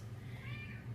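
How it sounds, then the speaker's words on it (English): A cat meows in the background, giving one faint, drawn-out yowl that rises and falls. It sounds distant and quiet in an otherwise hushed room. "I don't know if you hear my cat yelling in the background."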